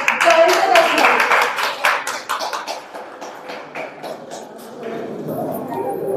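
Audience clapping welcomes poet Jayanta Das at a poetry recitation event, a loud burst of applause that starts strong and gradually thins out, with talk faintly present underneath.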